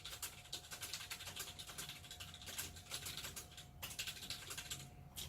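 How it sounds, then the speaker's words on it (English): Typing on a Roccat Vulcan Aimo 100 mechanical keyboard, a rapid steady patter of faint key clicks at close range, continuing without pause and with no talking. "we're gonna start typing now just to see how it feels like"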